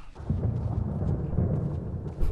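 Low, steady rumbling of a thunderstorm in the Resident Evil Remake video game, a continuous heavy roll that swells slightly near the end, with no talk over it.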